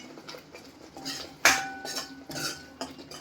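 A utensil stirs matar paneer in a pan, giving repeated scraping and clinking against the metal, close and fairly loud with a sharp knock partway through.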